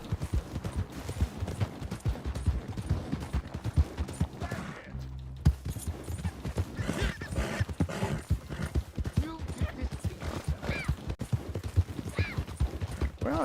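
A horse's hooves clip-clop rhythmically and continuously along a trail in a video game, fairly close and steady, with a brief near-silent gap partway through.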